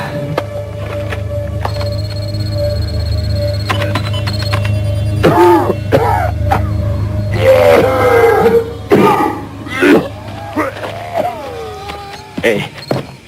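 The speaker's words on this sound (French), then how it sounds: "où as-tu trouvé une aussi belle toux?" A recorded hospital cough, altered on a synthesizer, sounds in bursts amid odd whirring and electronic tones, with short vocal rasps and throat noises toward the end.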